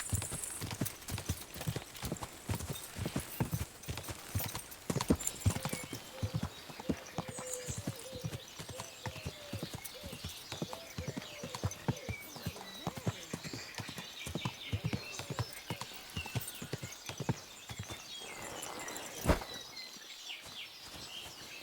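Horse hooves clip-clop steadily at a walking pace on ground in Kingdom Come Deliverance II, a continuous rhythmic stream of hoofbeats with faint ambient birds and no speech.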